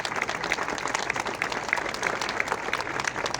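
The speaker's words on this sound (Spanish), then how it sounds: "les pido un fuerte aplauso para ella" A hall audience at an open economics lecture claps steadily throughout, a dense continuous applause close to the microphone with no speech over it.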